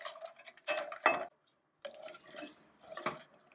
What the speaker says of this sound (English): start adding your chocolate and keep whisking until it's all melted and smooth